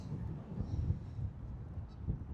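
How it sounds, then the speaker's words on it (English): Geese honking in the distance at a park at sunrise, faint and scattered, nearly buried under a heavy, continuous rumble of wind. "we got the geese squawking"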